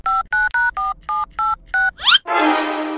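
A phone keypad dials a number: seven short, evenly spaced tone beeps, loud and close, followed by a quick rising chirp and a burst of hiss as the call connects.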